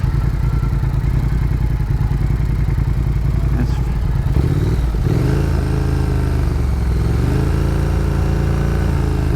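A Triumph Thruxton R motorcycle at a drag race holds a loud, steady engine drone, then revs up and accelerates hard midway, its engine pitch climbing and staying close and dominant throughout.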